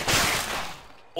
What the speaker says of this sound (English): What is that shot?